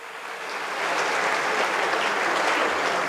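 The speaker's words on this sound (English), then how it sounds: "Let's give her a round of applause." Audience applause for a mayor, Brampton's Mayor Linda Jeffrey, rising steadily into a dense, sustained patter of many hands clapping throughout, with no speech over it.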